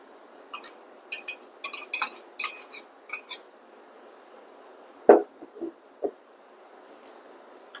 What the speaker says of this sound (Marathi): हे आपण चांगल्या पद्धतीने फेटून घेऊया.